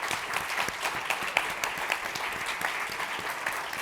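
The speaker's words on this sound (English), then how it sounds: "I want to give a round of applause to this awesome panel." A conference audience applauds a panel at a watershed and foodshed policy event, moderately loud continuous clapping with scattered individual claps standing out.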